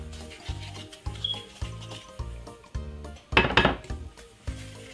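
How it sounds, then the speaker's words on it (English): Butter and sugar (4 oz each, unsalted butter) creamed together with a wooden spoon in a bowl, giving a rhythmic series of soft scraping, rubbing strokes about twice a second, plus one louder clattering scrape near the end, with no talk. "just simple cream it together like this until it gets really fluffy"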